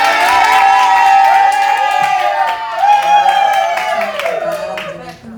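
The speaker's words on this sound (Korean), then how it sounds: "큰 박수로 맞이하도록 하겠습니다" A church congregation at a Sunday service welcomes a missionary speaker with loud clapping mixed with cheering and whoops. The crowd noise is strongest at first and tapers off toward the end.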